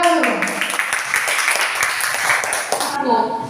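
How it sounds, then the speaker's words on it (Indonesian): A room full of people claps together, a dense patter of applause that holds steady for a few seconds before thinning out, with some voices mixed in. "Tepuk tangan dulu."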